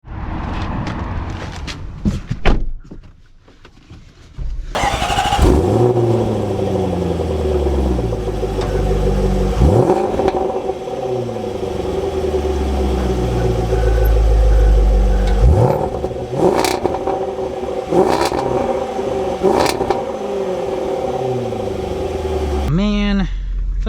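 A 500-horsepower supercharged V8 Range Rover Velar SVA SUV starts up and is driven, with repeated loud revving climbs and gear-change drops, steady engine roar throughout and a final rev burst.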